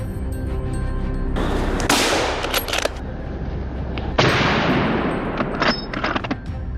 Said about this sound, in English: I tracked them and fired multiple rounds, adding more trophies to our tally